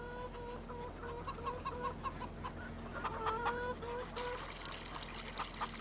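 Chickens and ducks in Farming Simulator 25 cluck and call repeatedly over a steady low farmyard hum, fairly faint and distant. A brief splashing pour of water sits near the end.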